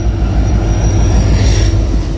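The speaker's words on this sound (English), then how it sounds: "here comes the Union Pacific. I think this is the ICBOA train." Union Pacific SD70ACE locomotives #8628 and #8371 leading a freight train past at close range, a loud, steady rumble of heavy engines and rolling wagons, alone and continuous throughout.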